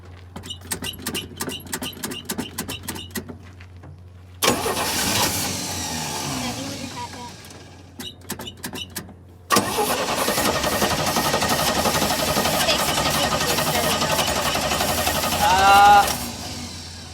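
A 1965 Chevy C10 pickup engine cranks with a rapid ticking starter, catches, and roars loudly; after a pause it cranks again and settles into a steady, heavy rumble.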